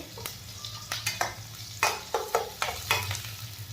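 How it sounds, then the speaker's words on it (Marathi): Finely chopped green chillies fry in a pan for Maharashtrian-style semolina upma, with a close sizzle broken by regular scraping strokes of a spoon stirring about twice a second, and no talking. "हिरवी मिरची छान आपल्याला तळून घ्यायची आहे"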